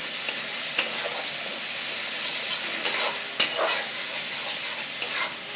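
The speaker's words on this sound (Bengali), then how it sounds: "এবার কাঁচা লঙ্কাগুলো দিয়ে দিচ্ছি। মশলাটাকে কষানো হয়ে যাচ্ছে।" Green chillies and spice paste fry in a hot pan with a loud, continuous hiss and sizzle, punctuated by a few brief stirring scrapes, close up and with no talking.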